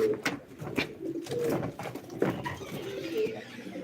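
Pigeons cooing softly nearby, repeated low warbling calls overlapping one another against a quiet background.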